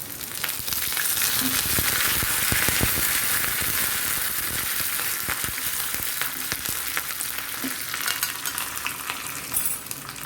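Red chilies and curry leaves sizzle and crackle in hot oil for a Kerala pulingari curry with snake gourd and drumstick, a steady, close frying hiss with scattered pops and sharp spits running throughout, no voices.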